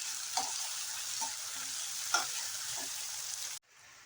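Onion and tomato fry in a pan with a soft, even sizzle and a few brief stirring scrapes, quiet and close, cutting off abruptly near the end.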